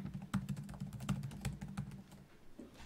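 Light typing on a computer keyboard at a desk, a loose run of soft, close key taps at uneven pace, fairly quiet with no talking.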